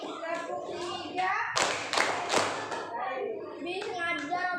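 Schoolchildren in a classroom clap in a short, sharp cluster of a few loud, quick claps, with chanting children's voices before and after the burst.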